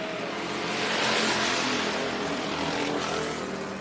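Race cars roar around Colorado National Speedway during a trophy dash, running three wide into turn three; a loud, continuous engine drone swells and fades as the pack passes close by.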